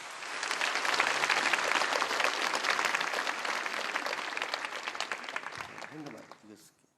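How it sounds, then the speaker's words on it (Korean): A church congregation gives warm, sustained applause to welcome their senior pastor, with the clapping building, holding steady and then fading out, as a voice begins to speak at the very end. "뜨거운 박수로 환영해 주시길 바랍니다"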